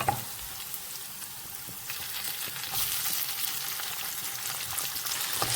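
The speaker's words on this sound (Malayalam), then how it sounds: "ഇനി നമുക്ക് തക്കാളി ഇട്ട് കൊടുക്കാം" Tomatoes dropped into a hot tempering of urad dal and spices for tomato rasam, giving a continuous hissing sizzle that swells a little partway through, with no talking.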